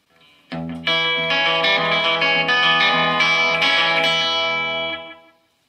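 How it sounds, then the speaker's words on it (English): A Fender Deluxe Tonemaster Blonde guitar amplifier plays a twangy electric guitar phrase through an echo effect. Plucked notes repeat and smear into a ringing trail for about four seconds, then decay into silence, loud and close. "we're going to try a little bit of uh, echo on here"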